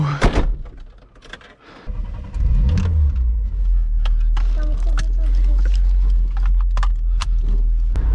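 A 1979 Opel Rekord sets off: doors thunk shut, then the engine rises into a steady low rumble that carries to the end, with people chatting over it inside the car.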